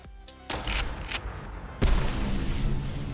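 The alternative fire of the X12 energy weapon in Fallout 4, a plasma missile: a short whir, then a loud blast at about half a second, a second heavier boom near two seconds, and a sustained rumbling tail.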